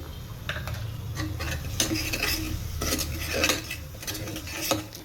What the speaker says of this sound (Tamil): மட்டன் போட்டு நல்லா சாட்டே பண்ணி இது கொஞ்சம் ஆகட்டும்.